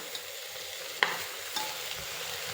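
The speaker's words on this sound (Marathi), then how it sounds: "त्याला छान असा मसाल्यामध्ये परतून घ्यायचं." Soaked rice ingredients gently stir-fried in masala for masale bhat, a low steady sizzle with two soft spatula knocks.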